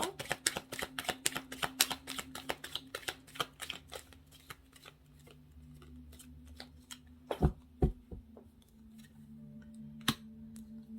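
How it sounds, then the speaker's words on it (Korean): Tarot cards being shuffled and drawn on a table, a quick run of crisp papery flicks at first, then slower, sparse card snaps and taps, all quiet and close. "이것에 관한 디테일 카드를 뽑아보도록 할게요"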